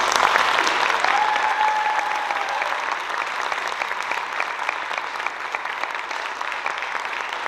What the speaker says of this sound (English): Let's give these guys a nice round of applause.